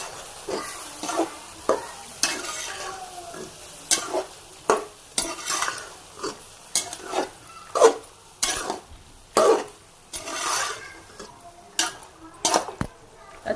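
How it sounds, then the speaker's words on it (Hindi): Plain boiled macaroni is stirred in a pan, with repeated scraping spoon strokes in a loose rhythm over soft sizzling, close and clear, broken by a few coughs. "और इसमें हम मैकरोनीज़ डाल देंगे और इसे करेंगे मिक्स।"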